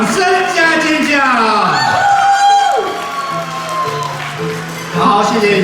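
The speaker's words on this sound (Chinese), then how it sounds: "掌声加尖叫！" Crowd cheering, whooping and shouting at a church anniversary thanksgiving dinner, loud and sustained throughout, with an announcer's voice over the noise.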